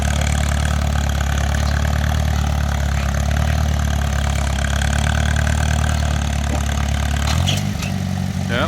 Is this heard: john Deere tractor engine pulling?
yes